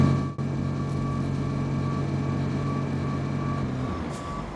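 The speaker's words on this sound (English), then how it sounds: "Deliver the semi-truck from the gas station to the relay." Semi-truck in the Road Craft video game rumbles along with a low, steady engine drone and a faint repeating beep, continuous for a few seconds without talk.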